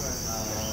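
Dense, continuous shrill chirping from many crickets at a cricket farm, a steady high-pitched drone that fills the whole short stretch.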